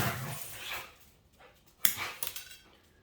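Dogs playing nearby with scuffles and a few sharp barks and yelps in bursts, mostly toward the end, with some clattering and no talk.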